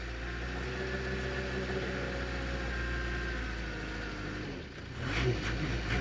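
A swivel skip dumper's engine runs steadily at a close, fairly loud idle, then picks up briefly near the end as the hand throttle is worked, with no talking.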